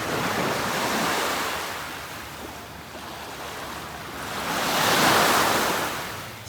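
Ocean surf breaks on a beach in the Seychelles, a broad, continuous wash that swells and fades in slow surges, with some wind rumble and no voices.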